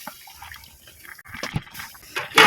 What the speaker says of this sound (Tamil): இன்னொரு டைம் தண்ணி ஊற்றணும்.